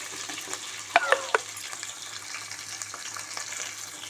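Tomatoes frying in a pan while making besan curry, a steady close sizzle with a few sharp clinks of stirring early on.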